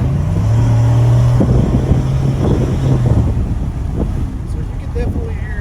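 A Chevrolet Silverado 5.3 pickup truck with a Borla Atak crate muffler drones low and then rises as it accelerates, with wind buffeting the microphone and a voice speaking briefly over it.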